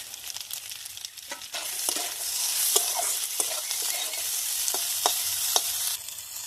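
Tomatoes hit a hot pan of oil and sizzle in a loud, bright hiss, with a spoon stirring and scraping the pan in occasional sharp clicks and a steady crackle throughout.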